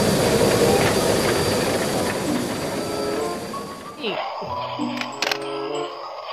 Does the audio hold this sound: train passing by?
yes